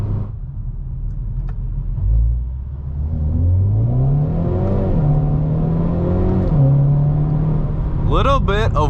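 A 2022 Hyundai Veloster N with a dual-clutch gearbox accelerating hard, engine note climbing in pitch through a shift with a brief break, heard from inside the car, with a voice speaking at the end.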